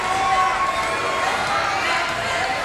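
A crowd at an evening volleyball match cheers and roars in a steady, dense wash of voices that stays loud and unbroken throughout.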